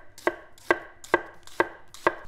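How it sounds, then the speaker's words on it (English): Knife slicing half an onion into thin slices on a cutting board, five crisp, evenly spaced chops in quick rhythm, close and clear with no voices. "I'm gonna cut them into thin slices."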